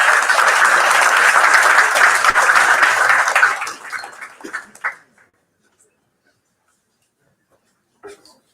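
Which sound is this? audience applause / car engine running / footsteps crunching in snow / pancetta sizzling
audience applause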